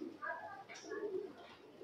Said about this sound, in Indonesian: Oh, ini mana-mana merpati semua terbang.